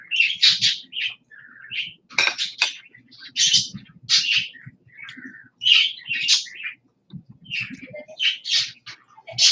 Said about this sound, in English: And the birds in the background.